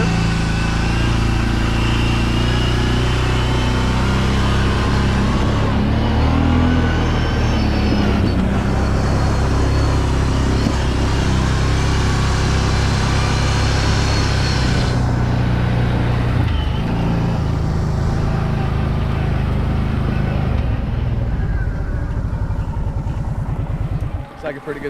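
The engine and exhaust of a Kawasaki Brute Force 750 ATV drone loud and steady while riding downhill outdoors, with a continuous rumble that shifts slightly in pitch as it cruises and voices heard over it.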